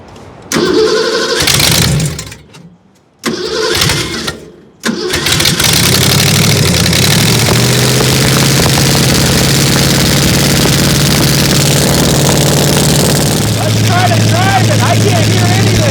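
A tractor engine cranks in a few short bursts, then catches and settles into a loud, steady running rumble that carries on to the end.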